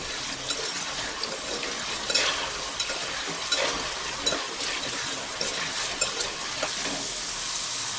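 Potato snack sizzling in hot oil in a pan while being stirred now and then, a dense steady crackle with soft scraping stirs over it, close up and without any talking.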